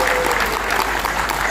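A crowd at a cattle breeders' association national meeting applauds, loud, dense clapping filling the whole moment with a steady low hum underneath.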